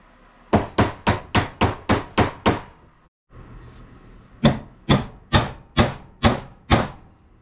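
Wedges are hammered into the head of an axe handle: a run of eight sharp, evenly spaced strikes, a brief pause, then seven more. The blows are close, loud and ringing, with no talk.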